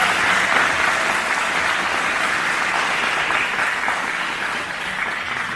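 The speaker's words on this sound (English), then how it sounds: "Let's give a round of applause." Steady audience applause from a panel gathering of Latino Muslim sisters and teens, a dense, even wash of many hands clapping that holds for several seconds.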